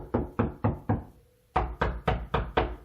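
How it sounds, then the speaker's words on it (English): Knocks on a wall to locate a stud in a house framed 16 inches on center: eight sharp, evenly spaced raps close by, four hollow-sounding ones, a short pause, then four more, with no talking. "we found the stud just by knocking"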